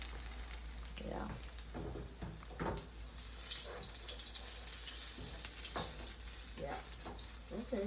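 Jamaican saltfish fritters fry in a pan with a steady, close crackling sizzle, sharper spits and pops rising over it now and then, with no talk.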